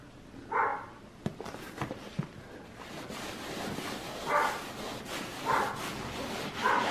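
A dog barks a few times in short, spaced bursts, moderately close, over steady wind and rustling noise.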